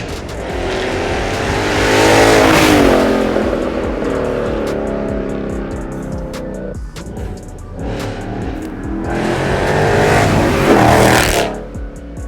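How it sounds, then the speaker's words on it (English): A 2014 Ford Mustang 5.0 V8 exhaust roars past twice: engine swells loudly as the car approaches, fades in between, then builds again for a second close flyby, with no one talking. "we'll see how the exhaust sounds"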